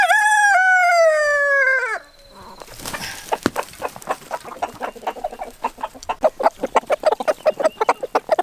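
A rooster crows loudly at the start, then backyard chickens set to work on food scraps of leftover oatmeal, their quick, close clucks and pecking taps coming in a fast, uneven rhythm.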